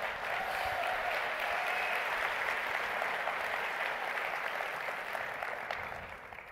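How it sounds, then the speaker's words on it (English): Sustained applause from a large audience at a talk, a steady wash of many hands clapping at a distance, fading slightly toward the end. "Big round of applause."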